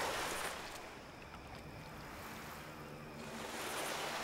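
In the video game Far Cry, a boat is pushed into the sea, bringing soft, faint sloshing and lapping water that swells, eases off, then rises again, with no speech.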